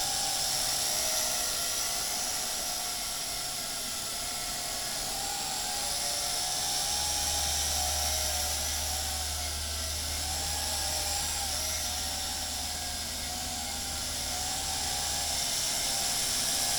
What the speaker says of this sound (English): this is an early drone and very noisy